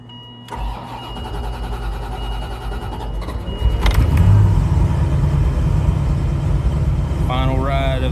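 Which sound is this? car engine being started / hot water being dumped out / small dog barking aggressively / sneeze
car engine being started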